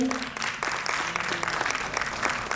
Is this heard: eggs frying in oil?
no